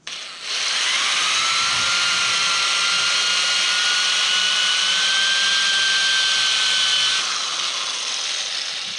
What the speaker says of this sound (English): that one we're going to take and grind out